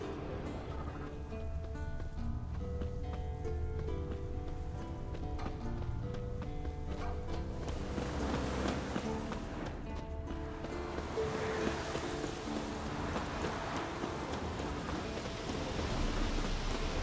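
Horse hooves clip-clop steadily in The Witcher 3 video game, a continuous mid-level trot laid over a dense orchestral score, with an occasional whinny and no talk.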